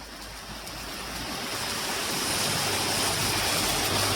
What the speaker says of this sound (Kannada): ಈ ಮಳೆರಾಯ ಇನ್ನೂ ಜೋರಾಗಿ ಬರ್ಲಿ ಅಂತ ನಾನು ಬೇಡ್ಕೊಂತೀನಿ